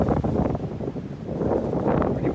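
Strong wind on a day hike up Mt Mann Peak in the Highwood valley of the Rockies, buffeting the microphone as a loud, rumbling low roar that surges and eases.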